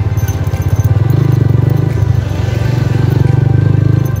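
A motorcycle ridden along an off-road mountain route on a road trip from Azad Patan to Punjar, its engine thrumming steadily and loudly close by with a rapid pulsing rhythm and some rattling, with no talk.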